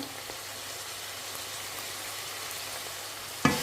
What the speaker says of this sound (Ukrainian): Файно перемішую з мукою, бо нам треба